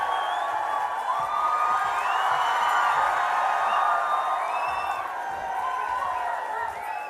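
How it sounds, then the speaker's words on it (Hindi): A packed audience cheers, whoops and shouts continuously to welcome comedian Anubhav Singh Bassi onstage. The crowd roar is dense and steady for seven seconds, with excited high-pitched yells rising above it. "तो फिर जोरदार तालियों से स्वागत करिए अनुभव सिंह बस्सी का"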